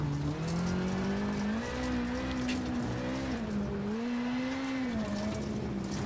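A rally car in the WRC7 video game, at 2018 Rally Mexico, spins its wheels in too high a gear, a loud, continuous engine drone whose pitch wavers up and down without pausing, mixed with tire hiss.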